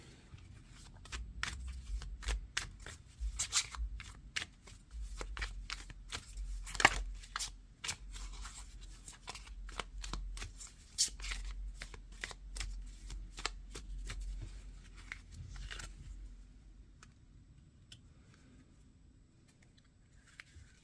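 Tarot cards being shuffled by hand: a long run of crisp, rapid card riffles and snaps in a steady rhythm, close and fairly quiet, with no voices.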